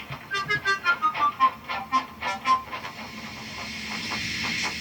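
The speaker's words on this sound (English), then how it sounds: "Henry only blew steam at him" A steam locomotive puffs in a quick run of rhythmic chuffs, about a dozen bursts, then settles into a continuous loud hiss of blowing-off steam.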